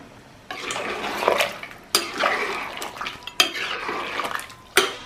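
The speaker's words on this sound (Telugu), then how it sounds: "ఇప్పుడు తగినన్ని నీళ్ళు పోస్తా అన్నాము" Water is poured into a mutton curry cooking in a pan, making splashing bursts of liquid mixed with clinks and scrapes of a spoon on the pot.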